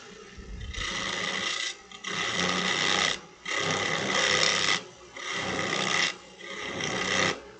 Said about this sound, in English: I'm going to grab my 1/2-inch spindle gouge and just do the cuts nice and easy towards the headstock.